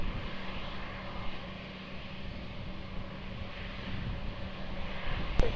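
An airplane takes off from runway 20 at Lisbon Airport, a steady broad engine roar held at moderate distance, continuous and without talk.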